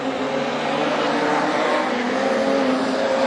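Production sedan race cars roar past at Carina Speedway during a feature race, a loud, sustained, dense engine drone with no pauses.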